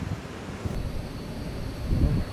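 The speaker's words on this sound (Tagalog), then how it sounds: "Sobrang lakas talaga ng hangin." Strong wind gusts buffet the microphone on the coast between Baler and Dingalan, a continuous low rumbling roar that swells louder toward the end, with no voices.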